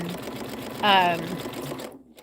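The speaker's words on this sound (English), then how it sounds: "Can you sew on the rhinestone sewing machine?" A rhinestone sewing machine hums in a short burst of stitching, close and fairly loud, with someone talking over it before and after.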